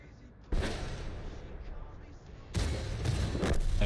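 Leopard tank cannon fire in a competitive tank video game match, two heavy booming shots about two seconds apart, each trailing into rumbling battle noise.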